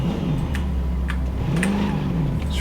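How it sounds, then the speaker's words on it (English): A car engine in Cyberpunk 2077 revs steadily with a low, droning hum, and its pitch rises and falls through a gear shift. Brief higher clicks sound over it, and no voices are present. "the sound of the engine"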